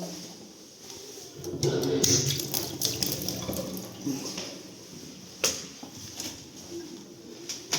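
Water runs steadily from a tap into a sink in a one-room village apartment, a continuous splashing hiss with a few clinks and knocks along the way.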